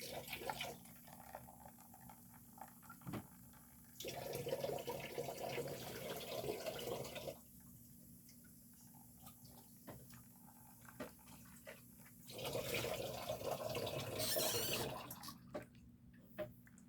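A water tap runs in a kitchen while a pitcher is rinsed, in two quiet bursts of splashing flow with drips and faint handling sounds between them.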